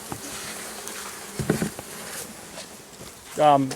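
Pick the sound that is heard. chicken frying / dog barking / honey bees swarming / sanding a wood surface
honey bees swarming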